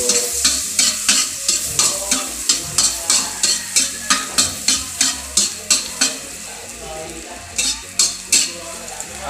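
Garlic frying in a pan for pancit bato, with loud sizzling oil and a rhythmic series of metal spatula scrapes and stirs repeating roughly every half second.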